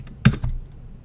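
A computer keyboard gets a quick burst of two or three close keystrokes, sharp and clicky, with quiet before and after.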